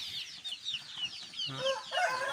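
Shamo and Aseel hens clucking and chirping in a busy flock, steady overlapping calls with a few louder clucks near the end.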